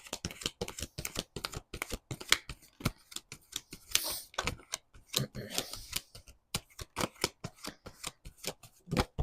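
Tarot cards being shuffled and drawn, a long run of crisp rapid riffling flutters and sharp card snaps close by, in uneven bursts with short pauses between.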